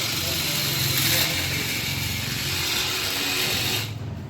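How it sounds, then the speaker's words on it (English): An automatic MIG welding holder cleaning machine runs continuously with a close, steady mechanical whir and buzz. A faint voice seems to be present beneath the noise, and the sound eases off slightly at the end. "So this is working automatically continuously."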